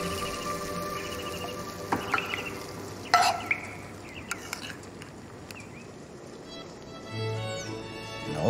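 Apples frying and being stirred in a pan for a 16th-century recipe, a soft steady sizzle with scraping stirs and a few sharper clinks of the utensil, close and fairly quiet, no talk.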